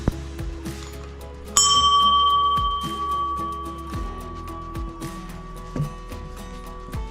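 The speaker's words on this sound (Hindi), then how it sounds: "और यहाँ पर घंटी भी लगी हुई है" A metal temple bell at an entrance near Derawar Fort in the Cholistan Desert rings out clearly and lingers with a long shimmering decay, over a background of quieter clinks and knocks.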